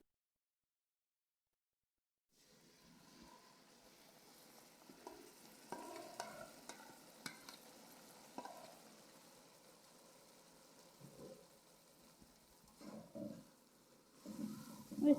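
Marinated chicken for chicken karahi hits a hot pan with a sudden sizzle, then keeps frying with a steady hiss under scraping, stirring clatter that builds toward the end.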